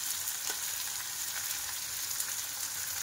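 Onions frying in a pan give off a steady, dense sizzle and crackle that stays even and close for the whole stretch, with no talking.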